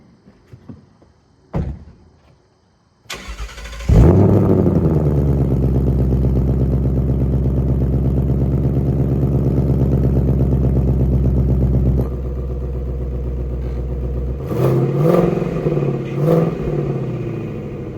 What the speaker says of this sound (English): let me try and get you back by the exhaust, see if I get some revs out of it